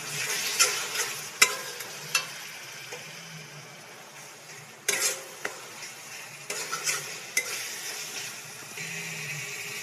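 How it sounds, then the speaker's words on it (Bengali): Spice masala for rice khichdi is stir-fried with a little water in a pan, a soft sizzle broken by intermittent scrapes and clinks of a spatula against the metal, close by with no talking. "অল্প জল দিয়ে আরও 1 মিনিট কষিয়ে নেব মশলাগুলো"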